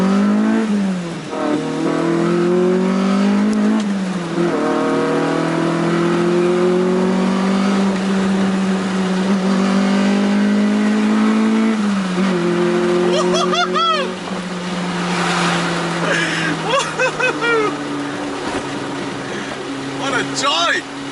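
A Honda CRX engine revs hard as VTEC engages, rising through the gears with a loud, climbing, near in-car drone and strong road noise. People talk over it throughout.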